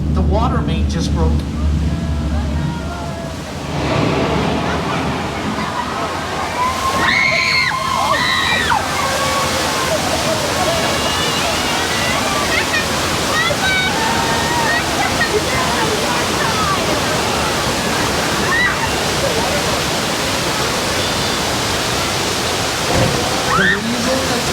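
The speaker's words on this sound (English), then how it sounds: "The water main just broke." Gushing water from a broken water main during a theme-park tram ride earthquake effect, a steady loud rushing wash that runs throughout, with crowd voices and talk mixed in.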